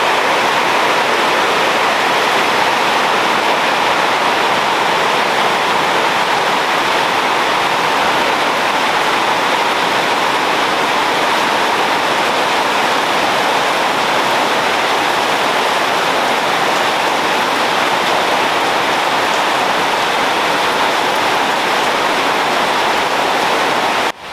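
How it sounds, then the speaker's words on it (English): Steady rain falls all night onto a back patio and the steel roof of a shed, a dense, unbroken hiss that holds at a constant loud level throughout with no voices. "it hasn't stopped raining all night"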